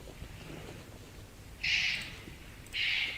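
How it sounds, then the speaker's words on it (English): Two loud, hoarse bird calls ring out in quick succession over a soft, windy outdoor background, with no one speaking. "Oh, those are birds. That's not wombat."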